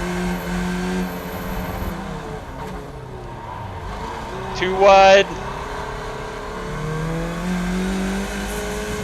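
A Skip Barber race car in the iRacing simulator drones through Long Beach, its engine tone sliding up and down as it brakes and accelerates, with a brief sharp squeal midway while someone talks over it.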